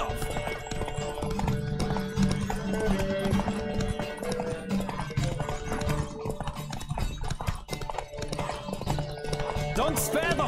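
Rapid clip-clopping horse hooves at a gallop with an occasional whinny in The Witcher 3: Wild Hunt, over layered game music and effects, with voices calling out at times.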